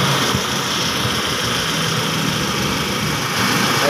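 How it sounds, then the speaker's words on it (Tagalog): Second-generation Honda CR-V engine idling after a spool valve filter and oil pressure switch repair, a steady, even hum with a light high-pitched drone, close and continuous with no talk. "Ayan, naandar yung makina niyan."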